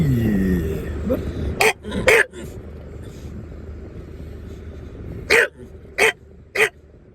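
A man inside a car imitates a dog barking, producing short, harsh, cough-like bursts, two close together and then three more spaced apart, with talking before them.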